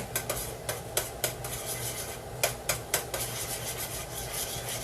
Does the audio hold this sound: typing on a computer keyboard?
no